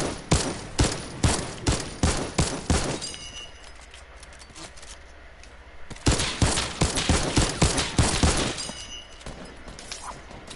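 Video game gunfire in a squad match: rapid bursts of automatic shots crackle in quick rhythmic volleys, pause briefly, then resume in another fast string of loud, close reports.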